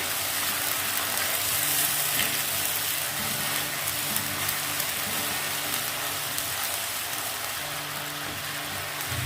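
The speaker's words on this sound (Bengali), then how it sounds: "আদাটাকে ভালো করে কষিয়ে নিতে হবে, কাঁচা আদার গন্ধটা যেন না থাকে।" Ginger sizzles in hot oil in a pan for fish curry, a steady dense frying hiss that holds evenly throughout with no talking over it.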